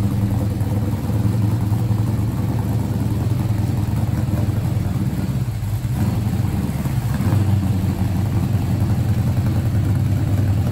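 Ford Cobra Venom restoration car running with a steady, loud low rumble from a few feet away, the engine humming evenly with only a slight dip midway and no voices over it.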